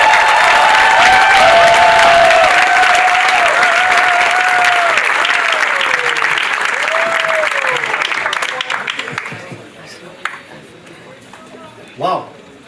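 Loud crowd applause and some cheering for startup founders at a hospitality demo day, with a voice and tonal sounds over the top, thinning out and ending after about nine seconds, followed by scattered noises.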